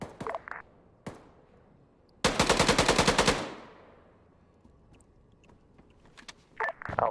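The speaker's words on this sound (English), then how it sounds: "I heard autocannon shots to the northeast from the tank." Autocannon fire in a military video game: one loud, rapid burst of about a dozen evenly spaced shots, with a few sharp isolated cracks before and after.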